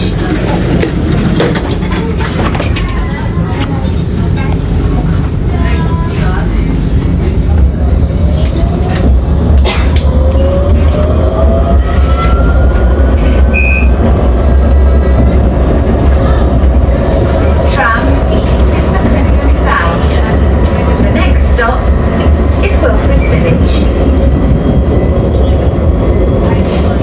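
A Nottingham tram runs along its rails toward Clifton South, a loud steady rumble with rolling wheel noise and occasional squeals and clicks throughout, heard from inside the car as an onboard announcement voice speaks.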